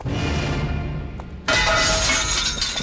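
A glass window suddenly shatters with a loud crash, breaking into a bright, lingering spray of tinkling shards after a quieter hissing lead-in.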